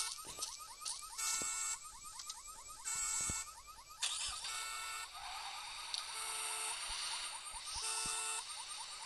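A wailing electronic police siren in a taxi-driving simulator game rises and falls repeatedly over busy game sound effects and clicks, fairly faint and steady throughout.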